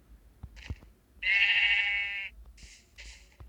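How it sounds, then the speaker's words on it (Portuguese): A sheep bleats in Minecraft, one drawn-out nasal bleat followed by a couple of shorter ones, moderately loud over faint game background sounds. "vou matar uma ovelha, só pra ver o que faz"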